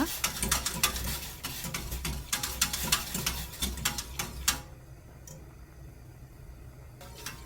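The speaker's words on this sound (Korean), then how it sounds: "밀가루 불이 타지 않게 계속 저어줍니다." Flour paste being stirred continuously in a pot on the stove, for making radish-green water kimchi, with repeated spoon scrapes and clicks against the pot for about four seconds, then quieter simmering.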